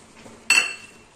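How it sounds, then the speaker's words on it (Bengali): A spoon clinks once, sharp and ringing, against a bowl while mixing semolina into ground flattened rice, with near silence before and after. "এবার আমি এর মধ্যে এই সুজিটা মিশিয়ে দেবো"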